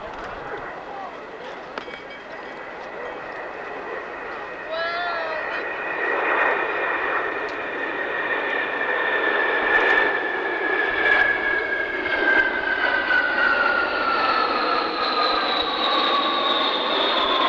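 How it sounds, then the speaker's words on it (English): B-52 bombers making a pass at the 1992 California International Airshow in Salinas: a rising, whining jet roar that builds steadily and stays loud as the big aircraft come in, with an announcer talking underneath. "look at the huge B-52 bombers coming in from the east right now"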